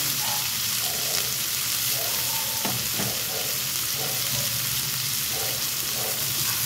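Salmon frying in a pan for afritada: a dense, continuous sizzle with light spattering pops and a few stirring scrapes, close and steady throughout, with no talking.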